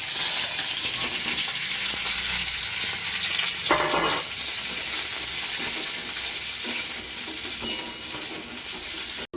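White oil heating and frying in a kadai, a dense, even hiss that stays close and loud throughout, with one brief louder burst of spattering near the middle and faint stirring scrapes, no talking.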